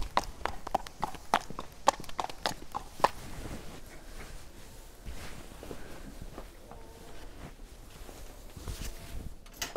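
Hooves of a horse clip-clop steadily on an afternoon walk at an equestrian stable, a close, regular beat of sharp knocks that thins out midway, then picks up again.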